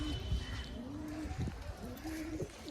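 Pigeons of an old Madrasi line coo steadily in a crowded loft, their low rolling calls overlapping continuously and close, with a faint voice under them.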